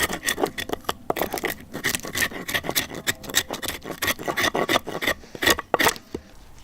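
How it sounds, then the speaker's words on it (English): The spine of a Tanev Family Knives TFK T4 bushcraft knife scrapes wood in quick repeated rasping strokes, close and crisp, a steady scratchy rhythm with no speech. "the back of this spine is definitely capable of doing some pretty decent scraping tasks"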